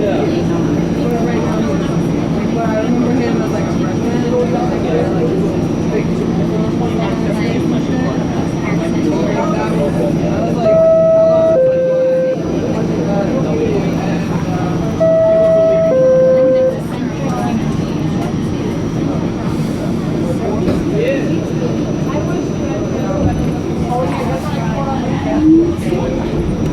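An R46 subway train on the G line rumbles steadily, with a two-tone chime sounding twice in the middle, station announcements spoken over the noise, and a faint squeal near the end.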